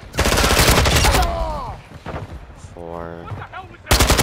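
Gunfire in Call of Duty: Modern Warfare II, with loud dense bursts at the start and again at the end, separated by a quieter stretch where a player speaks briefly.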